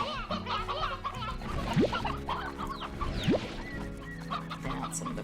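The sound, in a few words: hens clucking in Slime Rancher video game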